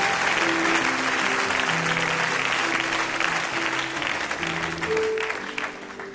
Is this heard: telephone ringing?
no